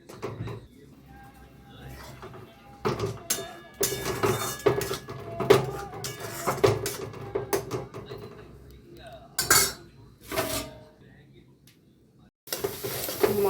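A pot of handi mutton curry being handled and covered with a lid: scattered metallic clanks and clatters of utensil and lid against the pot, in irregular bursts with quiet gaps between.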